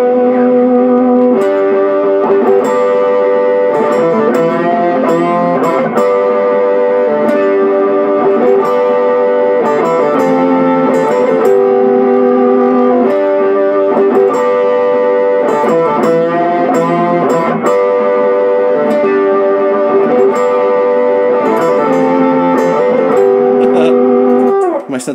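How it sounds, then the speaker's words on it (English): Distorted electric guitar, with a secondary distortion added, playing sustained harmony chords, loud and thick, with two chord shapes alternating steadily and no voices. "now I'm going to turn on a secondary distortion so you can hear it"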